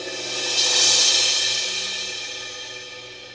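A Korg Pa5x cymbal roll pad with release added swells into a bright, hissing shimmer, where blended cymbal taps smear into one continuous wash that peaks early and slowly fades over about three seconds.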